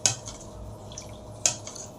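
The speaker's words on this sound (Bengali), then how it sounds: "আমরা এখন দইটা ভালোভাবে মিশিয়ে নিচ্ছি দুধের সঙ্গে" Spoon stirring homemade yogurt into milk in a bowl, two distinct clinks about a second and a half apart over faint scraping, quiet and close.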